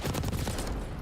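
Rapid automatic gunfire from a Call of Duty League match, a dense continuous burst of shots lasting about a second, loud and close with no talking over it.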